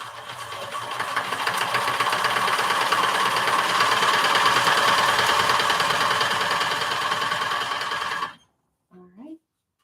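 A sewing machine stitching a quarter-inch seam across scrappy fabric squares runs in one steady, continuous mechanical whir for about eight seconds, then stops abruptly, with a brief faint sound after it.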